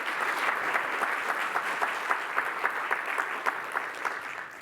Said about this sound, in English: So a huge round of applause to our amazing organizers.